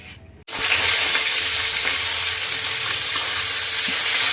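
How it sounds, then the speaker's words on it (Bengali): Fish fries in hot oil in a home kitchen. A loud, steady hissing sizzle starts abruptly after a brief quiet moment and continues close and unbroken, with no talk. "মাছ ভাজা চলছে বন্ধুরা"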